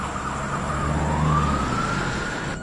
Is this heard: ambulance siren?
yes